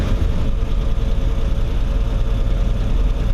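A 1959 GMC 100 Stepside pickup's engine rumbles steadily while driving, heard from inside the cab with the windows shut: a dense, continuous low drone that stays close and loud throughout, with no talking.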